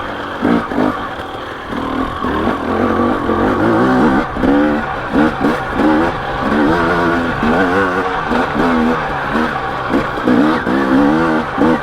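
A KTM 250XC or 300XC dirt bike ridden in second gear, its engine droning loudly and steadily throughout with repeated rises and dips in pitch as the throttle is worked, close and continuous with no talk.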